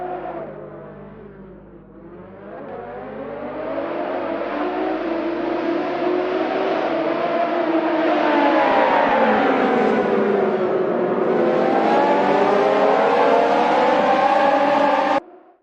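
Race cars in a Radical-class sim racing event accelerate off the start line, engines rising and falling in pitch as they rev through the gears. The loud, continuous whine builds and sustains, then cuts off abruptly.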